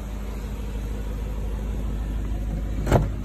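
A 2000 BMW E39 M5 idles after a cold start, with a low steady engine hum and a couple of sharp clicks or knocks near the end.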